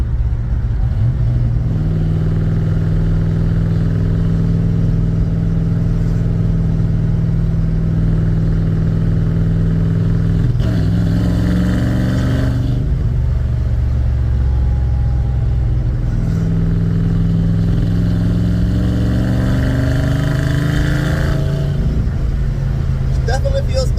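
A Ford F100 truck engine with a tuned carburetor revs at open throttle, a loud, steady low rumble with two surges of acceleration, heard from inside the cab.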